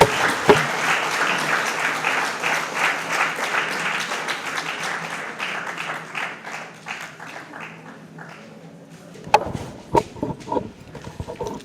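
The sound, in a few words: applause at a book launch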